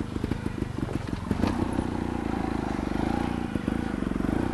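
Trial motorcycle on an off-road trial course at Falkenstein, Styria, its engine revving steadily with a throbbing, pulsing drone, fairly close and continuous with a brief rise in throttle partway through.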